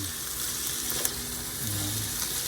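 Bitter gourd being stirred into sautéed garlic and onion in a hot pan, a soft, steady sizzle with faint scraping of the spoon, quiet and continuous, with a single small clink.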